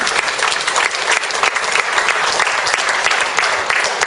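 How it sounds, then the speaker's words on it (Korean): A crowd at a Won Buddhist lecture event applauds loudly, its close, thick clapping sustained evenly from start to finish. "다시 한번 큰 박수 부탁드립니다"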